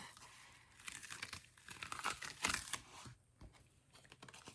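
A sheet peels off a mat with crinkling, tearing crackles in uneven bursts, close and fairly quiet, during work on a moth section.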